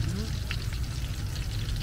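Banana fritters in rice batter frying in a pan of oil, giving a steady, close sizzle that fills the whole stretch with no gaps.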